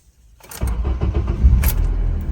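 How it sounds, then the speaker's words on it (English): A car engine cranks briefly and then catches after an ECM reset, settling into a steady, loud idle up close with no talking. "once I reset the ECM and crank the car again, it should actually start now."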